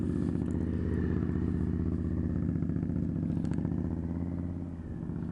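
Motorcycle engine holds a steady, fairly loud drone with a low rhythmic throb as the rider leans the bike through a figure-eight course marked with cones, easing off slightly near the end.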